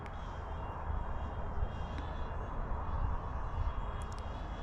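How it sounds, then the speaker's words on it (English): A DJI Flip drone flies overhead at Oakhill Nature Reserve, giving a steady, fairly soft buzzing whine under broad outdoor wind noise that runs through the whole stretch with no talking. "I don't want people kind of looking up and seeing the drone going over really."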